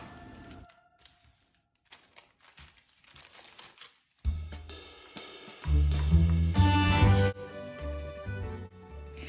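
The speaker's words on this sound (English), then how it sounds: "I'm placing a piece of parchment paper over the top so that I can smooth it out a little bit more with my hand." Parchment paper laid over semolina gnocchi dough crinkles and rustles as a hand smooths it flat, starting with faint scattered crackles and growing into louder, denser crumpling with a low thumping underneath toward the end.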